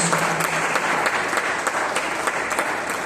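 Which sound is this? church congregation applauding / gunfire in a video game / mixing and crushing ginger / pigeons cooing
church congregation applauding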